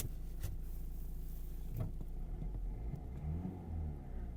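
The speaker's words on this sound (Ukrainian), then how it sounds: "Двигун працює чітко" A Renault Megane 1.5 dCi diesel car engine runs steadily nearby, a low continuous rumble with a slight rise in revs partway through, no voices.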